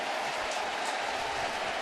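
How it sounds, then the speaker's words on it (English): A baseball stadium crowd at a Yankees game gives a broad, sustained wash of cheering and applause for a caught pop fly, dense and distant-sounding, steady throughout the short moment with no clear voices. "the crowd cheers a caught pop fly by Castillo"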